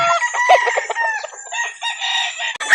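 Rooster crowing at a chicken market in Calauan, Laguna at early morning: a single loud, close, drawn-out crow with a wavering tail, and a short squawk at the end, no talk.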